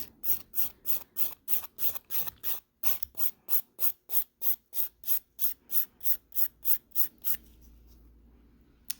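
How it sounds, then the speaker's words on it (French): A nail file rasps across acrylic gel nails in about twenty even back-and-forth strokes, close and crisp, before the rhythm stops abruptly near the end. "Je vais quand même donner un petit coup de lime."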